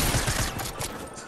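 A short, close burst of rapid gunfire in Fortnite, several quick shots in fast succession.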